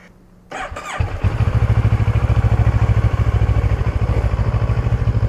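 A CF Moto 650NK motorcycle engine cranks briefly, then catches and settles into a loud, close, steady idle with a fast, even pulsing beat and no talking.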